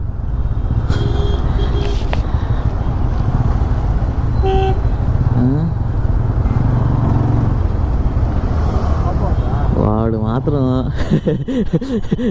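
Busy Bangalore street traffic heard from a Yamaha R15M motorcycle, with repeated car horn toots and rising engine revs from passing motorcycles over a constant loud road roar.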